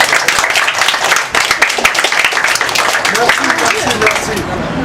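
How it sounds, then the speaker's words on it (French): Loud audience applause at a school event, dense clapping that carries on throughout with voices talking over it. "Applaudissez pour le Seigneur."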